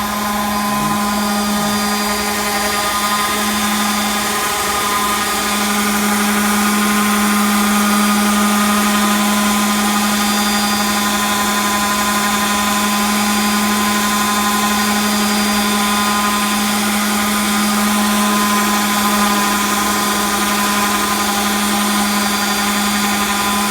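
A power sander with 100-grit paper works on wooden table legs, giving a loud, steady motor whine with a constant hum that runs unbroken throughout.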